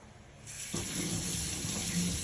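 Tap water runs steadily into a kitchen sink as a peeled vegetable, sticky with sap, is rinsed under the stream, a continuous close splashing gush that starts abruptly and holds at an even level.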